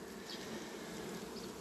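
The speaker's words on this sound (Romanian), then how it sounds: "Albinuțile au venit aici la condens să își ia un pic de apă." Honeybees buzzing around a hive while gathering condensed water from plastic foil, a steady close hum of many wings with brief louder passes by individual bees.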